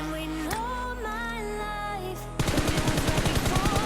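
Rapid automatic gunfire from PUBG Mobile during a recoil test, a steady burst of evenly spaced shots that starts suddenly after a stretch of music and continues loud to the end.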